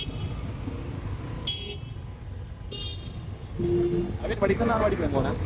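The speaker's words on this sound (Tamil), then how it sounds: "கொஞ்சம் சவுண்டாக இருக்கும் டிராஃபிக் சவுண்டாக இருக்கும்" Busy road traffic in Jaffna, with car horns tooting several times over a steady engine rumble from a moving vehicle and people talking nearby.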